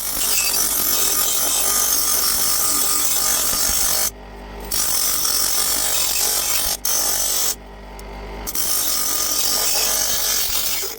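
A power tool saws loudly and steadily through material being cut down to size for a homemade Iron Man repulsor, pausing briefly twice before resuming.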